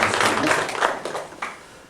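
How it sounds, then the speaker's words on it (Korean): A church congregation clapping together at an Easter service, a dense, steady wash of applause filling the room and fading slightly toward the end. "우리 하나님 아버지 앞에 감사의 박수하면서"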